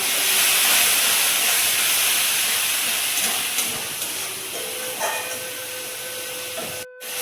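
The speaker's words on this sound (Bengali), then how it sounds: "কড়াই লেগে যাচ্ছে বলে আমি আর একটু জল দিয়ে আবারও মশলাটিকে ভালো করে কষি" Masala frying hard in a wok with a splash of water for a spicy red Bengali prawn dish, giving a loud, steady steam hiss and sizzle that eases slightly toward the end, with a brief dropout near the close.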